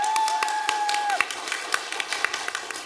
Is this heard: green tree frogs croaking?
no